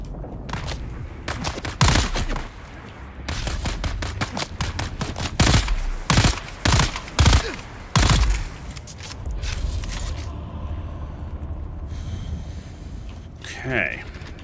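Rapid gunfire and heavy blasts from grenades in the video game Dune Awakening, loud and close, with bursts of shots packed together and pauses between the blasts for about ten seconds before easing off.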